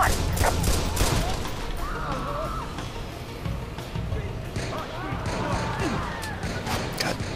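Gunfire in the Watch Dogs video game: a dense cluster of sharp shots near the start, then the fighting continues under voices, engine rumble and general action noise.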